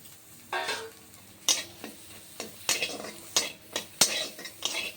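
Onions frying in a pan at a village kitchen, with a soft sizzle under repeated scraping and clinking strokes of a spoon against the metal, irregular and close, several sharp knocks among them.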